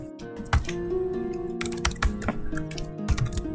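Keys on a computer keyboard tap in short irregular bursts, close and crisp, against a steady musical background while a spreadsheet column is filled in.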